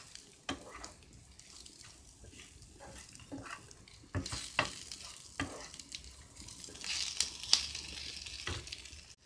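Potatoes and sucuk sausage sautéing in a pan, faint sizzling under repeated stirring scrapes and clinks of a utensil against the pan, with no one speaking.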